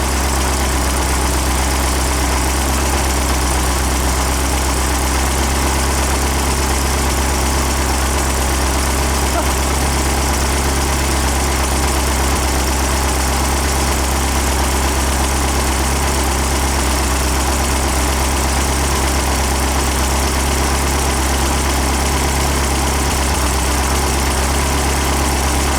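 A freshly built engine idles during its cam break-in, a loud, steady, low rumbling drone that holds constant throughout with a voice talking over it.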